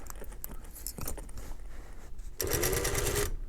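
An industrial sewing machine with a new servo motor stitches leather, first in short stop-start bursts. It then runs in a loud, fast, steady whir for about a second.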